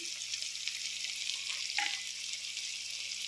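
Turmeric and ginger-garlic paste fry in hot oil in a pan with mint while making chicken: a soft, steady hiss and sizzle throughout, fairly quiet, with a faint clink from stirring, and no talk.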